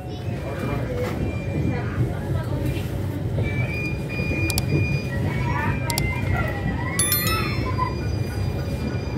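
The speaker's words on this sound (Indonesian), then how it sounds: "kereta api Argo Cirebon diberangkatkan dari jalur 5 stasiun Cirebon" Argo Cheribon passenger train pulling out of platform 5 at Cirebon station, a steady low rumble of rolling stock with brief high squeals and whistle-like tones, heard from on board amid background voices.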